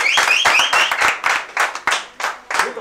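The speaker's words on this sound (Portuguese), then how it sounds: "Ok, uma salva de palmas para" Audience clapping after a woman's introduction at a Portuguese-language talk, a short burst of sharp, uneven handclaps with whoops or cheers on top, fading toward the end.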